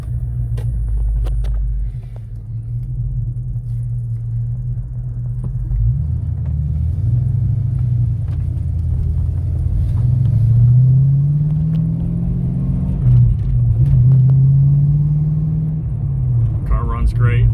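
A 1993 Ford Mustang LX 5.0 Notchback rumbles from inside the cabin, its V8 drone rising and falling through gentle acceleration and shifts, loud and steady throughout, with a clicking sound near the end.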